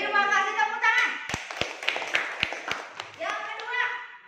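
Brief classroom applause during an Islamic studies lesson, a short run of sharp scattered hand claps amid children's voices.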